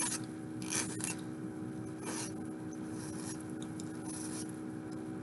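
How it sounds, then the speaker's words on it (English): A metal hand file rasps across a soldered wide band ring to cut down excess metal, giving a few short, close strokes in bursts over steady low background hum. "I'm going to start with my file just to cut most of that metal down"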